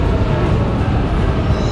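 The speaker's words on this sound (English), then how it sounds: "That's our train." Train arriving at a London station platform, a dense continuous rumble and roar of rolling carriages, loud and close, with no talking.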